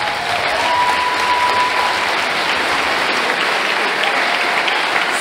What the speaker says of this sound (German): Lieber Johannes, Applaus für dich!